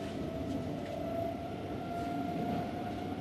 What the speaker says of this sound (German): Er sitzt immer noch in der S-Bahn.